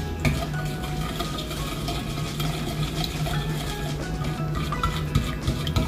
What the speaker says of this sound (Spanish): and when we finish adding the salt, we will mix it.